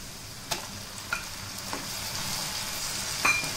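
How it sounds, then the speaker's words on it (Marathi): Tomatoes sizzle as they fry with golden-brown onion in an oiled pan for a matar paneer masala, a steady close hiss broken by a few soft stirring clicks and scrapes. "टोमॅटो घालूया।"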